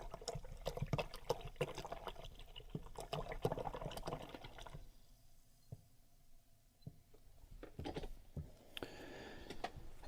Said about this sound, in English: I'm gonna wash my brush.